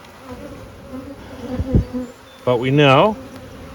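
Honey bees hum faintly around a hive, then one buzzes loudly past close by with a wavering pitch, while a person speaks briefly.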